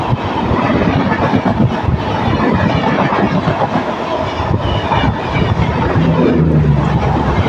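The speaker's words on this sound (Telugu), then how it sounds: "డబల్ ట్రాక్ వచ్చిన తర్వాత కూడా ట్రైన్ చాలా అంటే చాలా స్లోగా అంటే చాలా దరిద్రంగా వెళ్తుంది." A Visakhapatnam–Mahabubnagar express train crawls slowly along a double-track line, with a steady close rumble of carriages and a continuous rhythmic clickety-clack of wheels over rail joints throughout.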